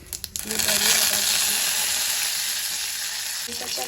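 Washed curry leaves and mustard seeds hit hot oil for a Goan tempering, bursting into a loud, steady sizzle and crackle after a few sharp pops at the start, close by and alone.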